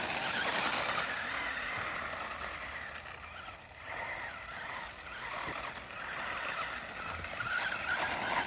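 A 1986 Ishipla Monster rolls over light gravel, its tires giving a continuous close crunching and rumbling hiss that swells and dips slightly as it pushes along, with no voices.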